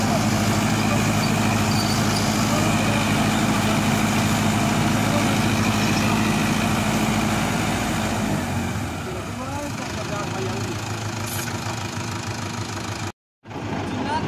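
A Swaraj Arjun 655 tractor running a super seeder in a field: a steady, loud engine drone that eases slightly partway through, with a brief dropout near the end and talk over it.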